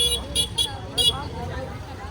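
Crowded road traffic near a busy dargah during a festival, with several short, sharp car horn toots in quick succession over a low engine rumble, as voices talk close by.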